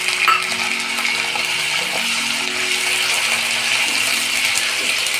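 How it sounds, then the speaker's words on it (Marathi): Potatoes go into a pan of fried peanuts and chillies for a fasting misal. A brief clatter opens a loud, steady sizzle of frying that continues to the end. "आता आपण यात बटाटा घालून घेणार आहोत।"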